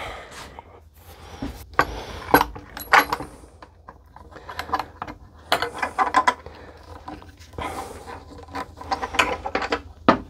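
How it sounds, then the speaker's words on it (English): A clamp is tightened on a wooden wine glass rack bottle topper being glued, with a series of close, irregular ratcheting clicks and handling knocks, and no talk. "One more clamp."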